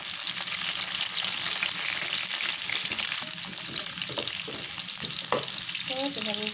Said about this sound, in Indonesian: minyaknya sudah panas, kita masukkan dulu si bawang merah, bawang bombay